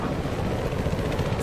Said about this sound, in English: Suspect's using a helicopter.